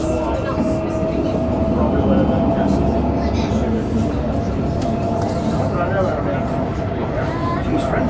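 A train rumbles steadily past at Bulwell Forest level crossing in Nottingham, with continuous loud rolling rail noise and faint wheel clatter close by throughout.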